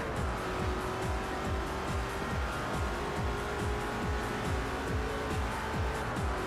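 In Forza Motorsport 4, racing car engines including a Koenigsegg roar continuously, with rapid repeated gear-shift sweeps and tire noise filling the whole stretch at a steady, dense level.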